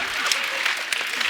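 A studio audience on a comedy show claps in a dense, steady burst of applause throughout.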